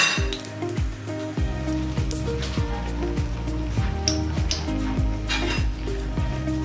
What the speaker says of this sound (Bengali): 3টে শুকনো লঙ্কা ভালো করে ভেজে নেব। লাল লাল করে ভেজে নেব